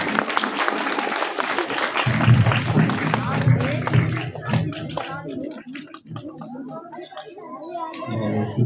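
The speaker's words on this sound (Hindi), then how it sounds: "एक बार जोरदार ताली से स्वागत करें।" An audience at a Republic Day celebration in a madrasa applauding to welcome a former chairman, a burst of clapping and crowd chatter that rises and fades, with a voice speaking over it.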